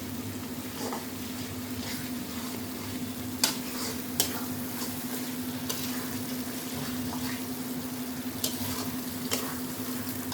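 Spice masala for mutton curry frying and being stirred in a pan, a steady close sizzle under a constant hum, broken by occasional sharp scrapes and clinks of a spoon against the pan.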